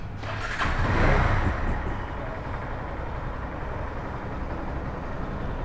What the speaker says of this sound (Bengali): তো বাইকটা একটু স্টার্ট দিয়ে দেখি।